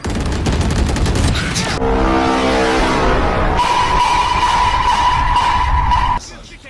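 Rapid gunfire in the game Valorant, loud close bursts of shots followed by a sustained stretch of firing with a steady tone underneath, ending abruptly, with people talking over it.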